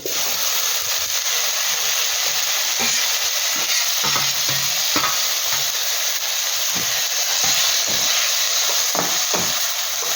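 Onion and tomato fry in oil in a pan for a Kodai fish curry, giving off a continuous loud sizzle and hiss. Spoon stirs and scrapes knock against the pan at irregular moments.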